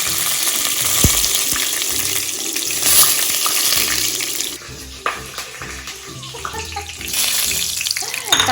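Whole cumin seeds and wet curry leaves hit hot oil in a home kitchen, giving a loud, close, steady sizzle that later breaks into sharper spattering crackles and pops as it settles.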